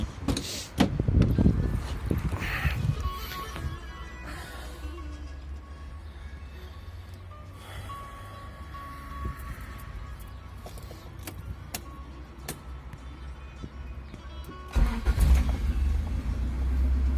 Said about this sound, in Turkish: motoruna bir marş verelim sizinle beraber anlayacaksınız ne demek istediğimi